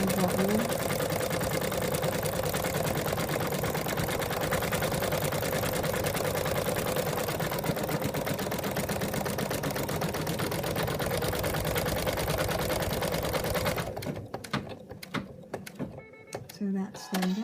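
An embroidery machine stitches a placement line to secure fabric, a fast, even mechanical chatter running steadily for about fourteen seconds before it slows into quieter, uneven clicks and knocks.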